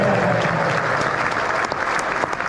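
A theatre crowd at a West Ham legends night at the Adelphi Theatre applauds warmly, with dense clapping and a few sharper individual claps standing out, a faint voice underneath.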